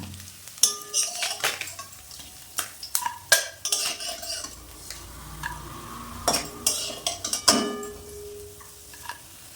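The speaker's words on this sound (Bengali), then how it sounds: "এইভাবে সব মাছগুলো ভেজে নেব" Gangmourola fish pieces frying in oil, with a soft sizzle beneath repeated clatter of a spatula and utensils knocking against the pan, several sharp clinks and scrapes spread irregularly across the stretch.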